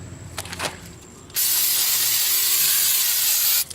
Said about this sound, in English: Using some of this brake clean